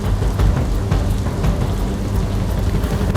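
Heavy, torrential rain pours down in Kheda district, Gujarat, a dense, loud, continuous hiss of water striking surfaces with no voices.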